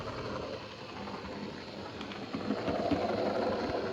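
A 25-year-old Hornby B17 Footballer class model locomotive runs with a steady, even motor whir and track rumble, continuous and moderately quiet, with no voices.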